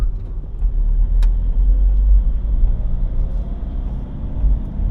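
A manual transmission car pulling away and beginning to drive, heard from inside as a loud, steady low engine and road rumble with a single brief click, no talking.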